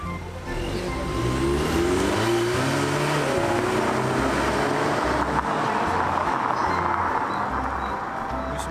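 A Ford Mustang accelerates hard close by, its loud engine climbing steadily in pitch with a strong, continuous roar that holds for several seconds.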